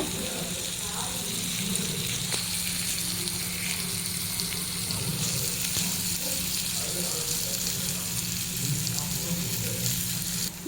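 Elephant foot yam fry with chilli powder cooks in a pan, giving a steady close sizzle and crackle with occasional stirring scrapes and a faint voice beneath.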